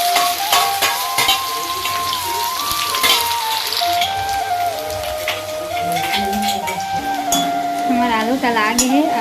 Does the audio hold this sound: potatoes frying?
yes